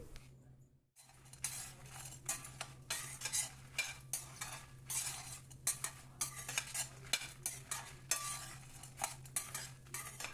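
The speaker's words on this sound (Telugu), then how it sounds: "ప్యాన్ వేడిగా ఉండేటప్పుడే అర స్పూన్ జీలకర్ర వేసి మొత్తం అంతా కలిసేటట్లు కలుపుకోవాలి" Cumin seeds and tamarind stirred in a hot, dry pan for Andhra-style coconut spice powder. A spatula scrapes in quick, repeated strokes, close and soft, with faint sizzling and light metal clinks in between.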